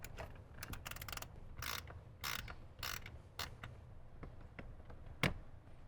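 A ratchet works a 7mm bolt from the lower right dashboard of a Jeep JK Wrangler, giving a close, quiet series of irregular clicking ratchet strokes and short metallic rasps, with one sharper knock near the end.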